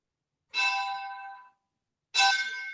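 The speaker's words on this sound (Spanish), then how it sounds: "Ahí sonó vaya una campana." A bell at a religious community house rings twice: a clear, ringing tone that fades over about a second, a short pause, then a second bright strike. No other sound is around it.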